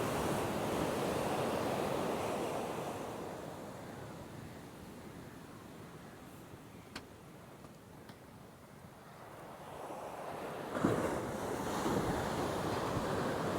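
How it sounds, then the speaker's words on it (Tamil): Sea waves surging onto the beach at Maruthamunai, a broad rushing roar that swells, recedes and swells again, with wind buffeting the microphone and one sharp splash near the end. "என்னடா இப்படி அலை குத்துது"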